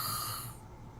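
A person imitates a snore with a brief, breathy, rasping snort, faint and close, lasting about a second.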